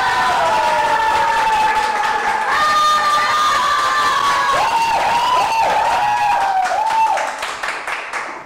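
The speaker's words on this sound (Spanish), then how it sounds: "con un fuerte aplauso, le pedimos a Juan Diego que regrese" A crowd at a Mother's Day tertulia in Biblián, Ecuador, claps and cheers loudly to call a singer back, with whistles and shouts over the clapping before it trails off near the end.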